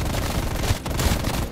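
Rapid gunfire in a zombie video game, a dense burst of automatic shots rattling continuously with heavy low thumps.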